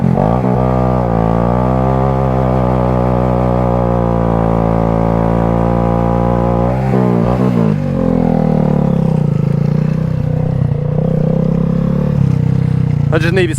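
A vehicle engine revving hard to heat its worn rear tire for a burnout: a loud, steady rev that climbs in pitch and holds, dips briefly, then settles into a rougher sustained roar.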